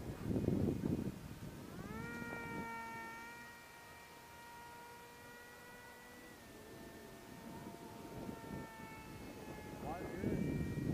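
A Fast One III model airplane's engine whining in flight on a maiden outing, a faint sustained buzzing tone that rises and shifts pitch as it passes, with bursts of wind noise and people talking at the edges.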